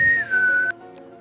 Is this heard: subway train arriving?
no